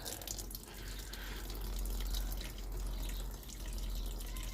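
Petrol drains steadily from a Steyr Puch Haflinger during restoration, a continuous close trickling and splashing stream lasting several seconds with no talk.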